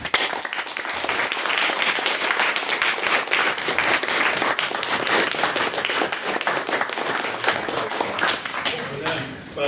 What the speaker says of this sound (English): he does deserve another applause